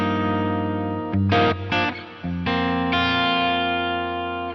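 Les Paul electric guitar through a clean amp tone, a few sustained chords and single notes ringing out with a brief choppy strummed passage in the middle, bright and close.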